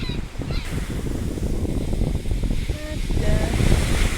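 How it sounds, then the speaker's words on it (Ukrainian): Sea waves break on a Greek shore in late September, a loud, broad rushing wash that swells and recedes under wind noise, with a few faint bird calls in the background. "Ого, яка хвиля!"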